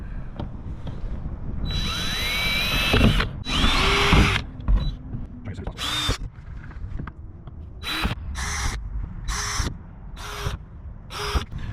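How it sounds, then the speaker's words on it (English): A power drill whirs in repeated short bursts while drilling pilot holes for a roof fan install in a Mercedes Sprinter van, a couple of longer pulls with the pitch rising as it spins up, then quick on-off triggers, close and fairly loud. "we're going to use this little drill bit and put pilot holes in here"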